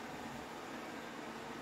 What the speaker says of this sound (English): So my vacuum has just decided to turn on.